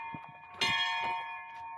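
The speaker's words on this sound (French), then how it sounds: "C'est la cloche finale." A church bell rings out with a loud struck tone that hangs in a long, shimmering decay, with a few faint knocks just before the strike.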